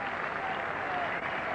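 A cricket crowd at an England versus India Test match applauds Graham Gooch, steady sustained clapping from many hands filling the ground at a constant loud level.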